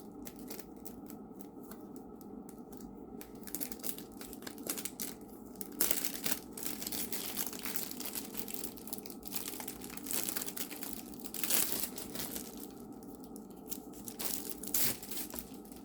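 A small plastic bag holding a diamond painting canvas crinkles and rustles up close, with intermittent sharper crackles and snips over a quiet background.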